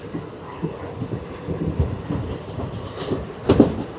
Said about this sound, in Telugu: అలా స్లోగా సెటిల్గా వెళ్ళిపోతుంది ట్రైన్ మాత్రం